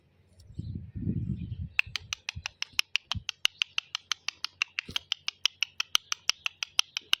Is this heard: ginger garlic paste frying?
no